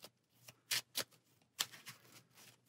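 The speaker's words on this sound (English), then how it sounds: "Give this a shuffle." An encounter deck for the Marvel Champions card game gets shuffled by hand, a few quick riffling bursts with short pauses between, soft and close in a quiet room.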